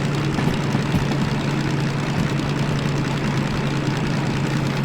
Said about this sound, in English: we're slowing down just from the sound of that diesel engine